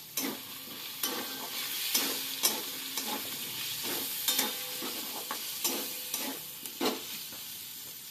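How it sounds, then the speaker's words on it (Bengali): Chopped tomato frying with ginger-garlic paste in a pan makes a constant close sizzle, punctuated by regular scraping strokes of a spatula; no one speaks. "আদা রসুন বাটাটা দেওয়া হয়ে গেল এরপরে টমেটো কুচিটা দেবো"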